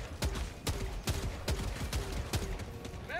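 Rapid bursts of gunfire in the video game Hunt as a magazine is emptied, sharp evenly spaced shots repeating about every half second over a busy background, ending as the mag runs dry.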